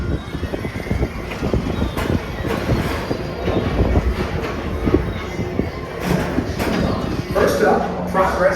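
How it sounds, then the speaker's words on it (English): The Peoplemover ride train in Tomorrowland at Magic Kingdom rolls along with a steady low rumble and light clatter while a narrator talks over it. "your express train keeps on rolling through the future"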